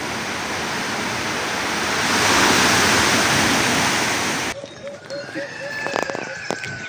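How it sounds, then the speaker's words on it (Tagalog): Strong sea waves pound the shore at Lanuza, Tandag, Surigao del Sur after Typhoon Basyang, a loud, swelling roar of surf for about four seconds before an abrupt cut to a quieter scene with scattered faint sounds. "Lakas pa rin ang mga alon"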